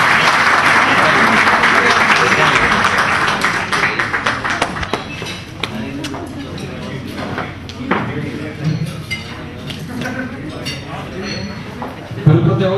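Sustained applause from a crowd at an award ceremony for a horse competition, loud at first and then thinning into scattered claps, with some clinking and voices underneath.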